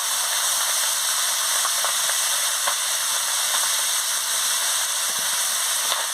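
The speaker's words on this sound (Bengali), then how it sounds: "আলু, পেঁয়াজ ছাই আর বেগুন এর সঙ্গে দিয়ে দিচ্ছি।" Potato, onion stalks and eggplant fry together in a pan for a vegetable chorchori, producing a constant dense sizzle and hiss with occasional small pops, close and steady, with no talking.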